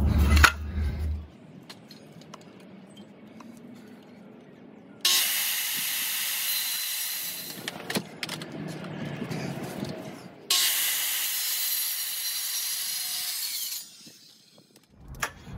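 A power saw cuts trims into wood for a garden bench in two loud hissing, rasping bursts with quieter handling and shuffling noises before, between and after them.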